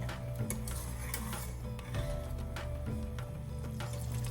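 Spoon stirring melting butter in a pot while making Indian ghee, quiet scraping and clinks against the metal recurring at irregular intervals over a low background hum.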